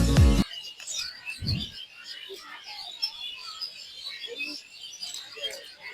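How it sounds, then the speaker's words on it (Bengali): Birds chirp and tweet overhead in a park with a flower garden: scattered, fairly faint calls over a light outdoor background, after a brief low thump at the start. "এখানে উপরে কত পাখি এবং পাখিদের আওয়াজ শোনা যাচ্ছে উপরটা দেখেন"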